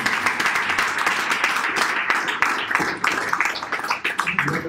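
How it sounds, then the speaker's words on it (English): A church congregation claps for the sound man during a sermon, loud dense hand clapping that fills the room steadily for several seconds with no speech over it. "I want us to give a hand clap for the sound man."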